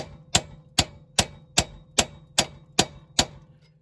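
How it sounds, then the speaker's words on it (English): Metal tool striking a seized sway bar link nut on a 2009 Dodge Caravan, eight sharp, evenly spaced ringing blows about half a second apart, close and loud, with no talking. "So I'm going to see if I can split this nut with this and get it off."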